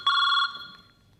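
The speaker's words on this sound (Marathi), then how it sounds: "फोनची घंटी. फोनची वाजते." A single short burst of a telephone ringtone, loud and close, cuts off after under half a second and leaves near silence.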